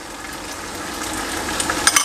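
Masala and chicken fry in a pan for a chicken dal dish, a steady crackling sizzle with a few sharper pops and stirring scrapes near the end.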